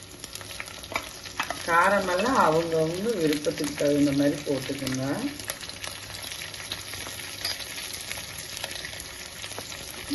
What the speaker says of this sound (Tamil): பச்சை மிளகாய் போட்டோன்னே ஒன்றும் படப்படன்னு வெடிச்சு மேலே வரும்.